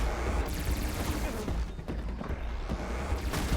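A bolt blaster fires repeatedly in Horizon Forbidden West, its rapid mechanical shots and crackles blending into dense, loud combat noise throughout.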